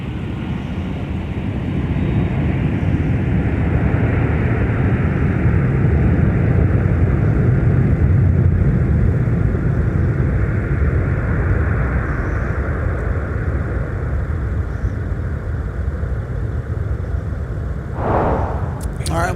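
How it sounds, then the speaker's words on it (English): An Airbus A330 landing at MSP airport gives off a loud, steady, gurgling reverse-thrust rumble that fills the whole stretch, with a brief sharp burst near the end. "That A330 reverse thrust rumble is unlike anything else."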